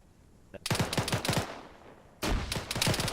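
Automatic gunfire in a military video game squad battle comes in two loud, close bursts of rapid rattling shots separated by a short lull.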